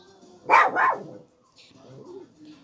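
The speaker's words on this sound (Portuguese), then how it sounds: "Minha cachorra escuta as crianças da vizinha e fica latindo." Two loud, close dog barks in quick succession from a noisy female house dog, followed by quieter murmuring voices and room noise.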